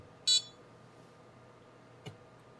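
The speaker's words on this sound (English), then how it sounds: "You can hear some annoying beeps." A Vortex 250 Pro racing drone powering up gives a single short, bright electronic beep near the start, then a faint low hum and a soft click, quiet and close.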